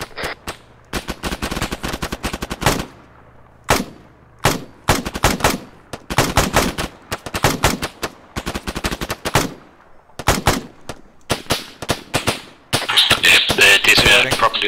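Sustained automatic machine gun fire in the military shooter ArmA 3, loud, close bursts of rapid rounds with brief pauses between volleys, ending in a dense continuous stretch of firing.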